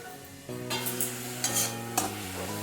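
Vegetables fry in oil with salt and turmeric, a lid lifted off to release a bright, loud sizzle broken by a few sharp clinks and stirring scrapes.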